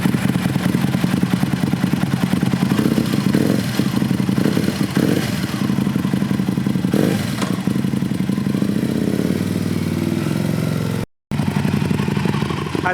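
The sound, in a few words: Aprilia RSV Mille SP motorcycle being ridden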